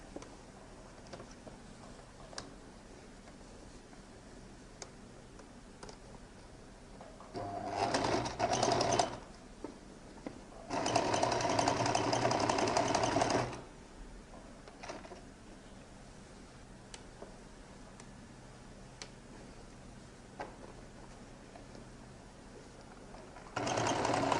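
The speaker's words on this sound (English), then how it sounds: "So I'm going to top stitch on the main body here up to that slash there." A sewing machine top stitches the main body of a lady's jacket, running in two close, steady bursts of a few seconds each against a quiet room background.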